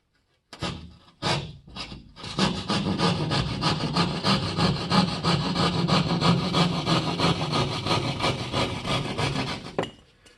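Drywall saw rasping back and forth through a wall panel to cut a box opening, a steady loud run of sawing strokes after a few short starting scrapes, stopping abruptly near the end.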